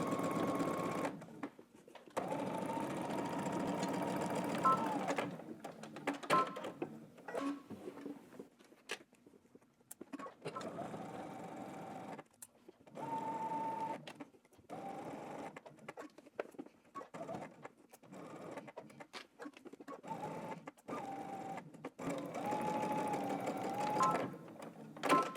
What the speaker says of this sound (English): we're gonna go ahead and stitch along the very edge of our pocket, and then we're gonna go ahead and do a second row of top stitching